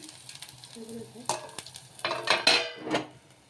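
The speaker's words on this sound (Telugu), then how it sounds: "ఇప్పుడు నిదానంగా వేయించి కాల్చుకోవాలన్నమాట" Homemade snacks made without flour fry slowly in a pan, with a faint sizzle beneath several sharp scrapes and clinks of a metal utensil stirring and turning them, close by.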